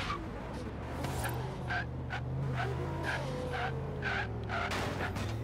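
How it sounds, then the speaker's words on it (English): A car set up for wheelie runs sits at a steady, low, throbbing idle, close and constant, with rhythmic lumpy pulses riding on top of the engine drone. "That's a pretty nice idle,"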